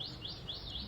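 Faint bird chirps at dawn repeat in a quick, regular series of rising tweets, distant and soft over quiet background.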